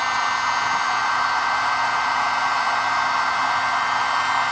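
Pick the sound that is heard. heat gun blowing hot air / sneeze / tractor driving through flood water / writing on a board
heat gun blowing hot air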